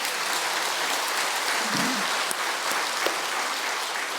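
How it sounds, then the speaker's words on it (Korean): Steady, sustained applause from a church congregation at a revival service, a dense even wash of clapping throughout. "영광의 박수"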